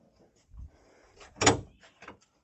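Old Lada Moscow car hood being worked open by hand, a few scattered metallic clunks and creaks with one louder sharp clack in the middle, close by and otherwise quiet.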